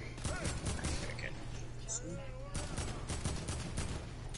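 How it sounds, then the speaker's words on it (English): Rapid-fire SMG gunfire crackles in quick bursts in Fortnite, fairly faint and steady, with players talking excitedly over it. "Rapid fire SMG."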